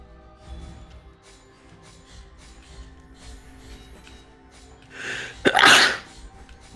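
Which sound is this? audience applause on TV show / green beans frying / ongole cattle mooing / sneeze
sneeze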